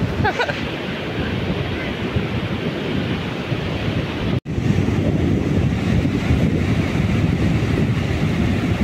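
Ocean surf and wind at Bagasbas Beach in Camarines Norte make a constant loud wash of noise with microphone buffeting. The sound cuts out for a brief moment midway.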